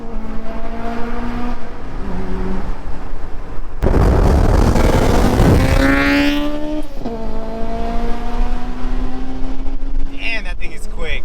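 A 1995 Honda Civic Si EG accelerating hard, engine note rising through the revs with a loud burst, a gear change and renewed climbing pitch, heard from inside the car with voices talking over it.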